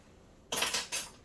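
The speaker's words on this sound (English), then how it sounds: "we're going to mix that with the cream cheese and butter mixture" A utensil scrapes and clinks against a bowl while vanilla is mixed into cream cheese and butter, two brisk close strokes following a moment of quiet.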